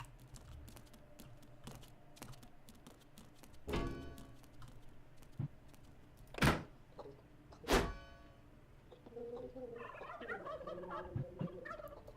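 Gobbler creatures in the Dungeons 3 game let out a few loud, separate turkey-like gobbling bursts against a quiet background of faint clicking, with a busier chattering patch toward the end.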